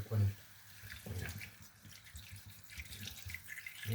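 Water pours and trickles into a pot of simmering kare kare, Filipino beef and vegetable stew with peanut butter, a soft splashing stream with light clinks and drips throughout, fairly close.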